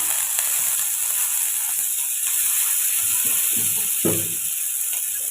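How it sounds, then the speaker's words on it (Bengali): Sliced onion sizzles gently in a pan of oil, a steady close hiss with a few soft crackles and stirring clicks, no voices. "পেঁয়াজটা খুব বেশি ভাজবো না হালকা ভাজা হলে এর মধ্যে দিয়ে দেবো কেটে রাখা কারি পাতা"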